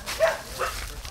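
A dog barks twice in short bursts, close by, with a voice faintly underneath in an outdoor yard setting.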